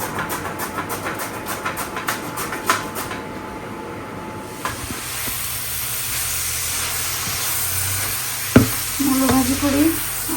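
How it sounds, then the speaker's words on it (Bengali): Radish is stir-fried in a pan, giving a bright sizzle with scraping and clattering from stirring, then one sharp knock against the pan before the frying carries on. "মূলো ভাজি করি আর মাছটা কেটে দিয়ে গেল"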